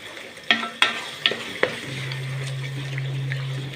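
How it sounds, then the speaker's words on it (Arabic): Chopped onion stirred with stuffed mombar in a frying pan: a few sharp spatula scrapes against the pan, then a steady close sizzle with no voices. "هبدأ احور فيها كده مع البصلة عشان المادة الحافظة تطلع منها"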